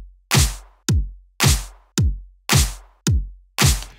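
A drum loop run through a Fold wavefolder soft clipper plays alone: seven evenly spaced punchy hits alternate with shorter snappy ones, bright and crisp on top with the sub-bass thinned, each hit decaying quickly into silence.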